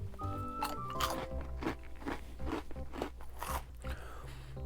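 Rice cracker and cheese snack mix being crunched and chewed up close, a series of sharp crisp bites followed by rhythmic chewing crunches, with no talking.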